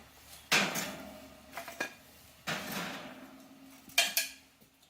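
Metal baking pans of toasted, buttery garlic bread come out of a kitchen oven with loud clanks and scrapes, three main bangs spaced across a few seconds, each trailing a short metallic rattle, with no voices.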